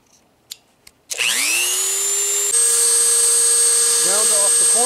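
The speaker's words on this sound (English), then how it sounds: "Using a Dremel with a cutting disc." Dremel with a cutting disc spinning up and cutting into a PMAG 10 polymer magazine, a sharp rising high-pitched whine that settles into a loud, steady grinding tone after a few faint clicks.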